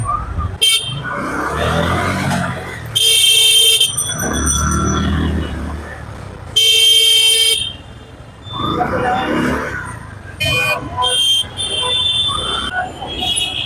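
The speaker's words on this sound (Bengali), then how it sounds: "যানজট ভয়াবহ থেকে ভয়াবহ আকার ধারণ করে আছে" Car horns honk repeatedly in a heavy traffic jam, with several long, loud blasts close by over a constant rumble of engines and road noise. Someone talks between the honks.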